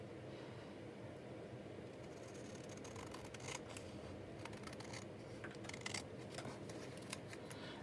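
Scissors snipping off a bottom paper flap while crafting a botanical book page pocket, a series of faint, crisp cuts over a low steady background hum.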